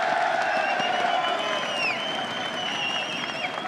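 Esports crowd at an IEM Sao Paulo League of Legends quarterfinal roaring with sustained cheering, yelling and applause, a dense continuous wall of voices filling the arena throughout.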